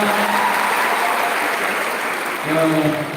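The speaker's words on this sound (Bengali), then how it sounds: "আমাদের সঙ্গীত পরিবেশন করতে জয়ন্ত জামাতে জোরে করতালি হয়ে যাক" An audience applauds a singer at a college event in a continuous dense roar of clapping that swells again near the end, with a voice speaking over it.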